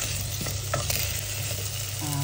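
Potatoes and carrots brown in a pan for kaldereta under a loud, continuous sizzle with low hum and faint clinks of stirring; no speech.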